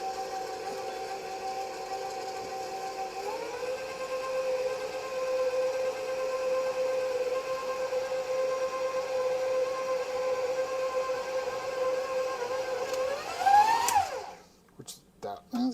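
An electric stand mixer fitted with a paddle runs steadily as dry ingredients blend into blondie batter, a droning motor hum that steps up in speed partway through, then rises and cuts off near the end.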